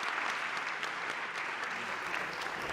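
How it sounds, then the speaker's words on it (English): Audience applause for a panel at a discussion on terrorism threats, a continuous even roar of many hands clapping at moderate level, steady from start to finish. "How about we give the panel here a great hand of applause for that?"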